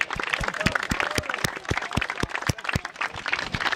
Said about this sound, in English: can we all give a clap to Rod?